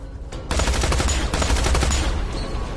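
Gunfire in the video game Tales from the Borderlands comes as a loud, dense volley of rapid shots that begins abruptly and keeps going without a break.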